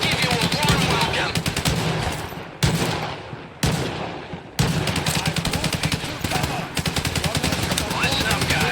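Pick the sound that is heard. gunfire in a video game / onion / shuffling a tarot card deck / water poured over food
gunfire in a video game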